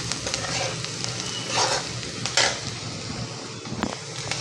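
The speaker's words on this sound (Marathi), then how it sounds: "हे बघा, आपला कांदा चांगला भाजला तेलात" Chopped onion and curry leaves fry in hot oil, a steady close crackling sizzle with a few brief louder spatters and faint stirring, no voices present.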